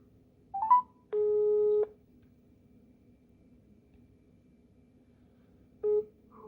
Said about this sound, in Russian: Сейчас звоним на трекер ТК-102Б.